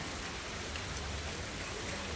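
Light rain falls steadily outdoors, a soft, even hiss of drops pattering on surfaces throughout, with no voices and no thunder.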